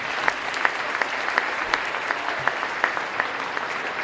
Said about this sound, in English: One last round of applause for our seniors here at Pioneer